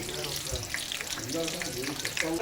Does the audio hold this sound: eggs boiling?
yes